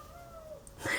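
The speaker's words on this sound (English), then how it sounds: "It's meowing." A pet cat meows once indoors, a faint drawn-out cry fading before a brief louder rustle at the end.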